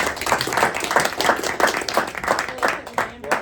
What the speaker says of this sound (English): round of applause for Amber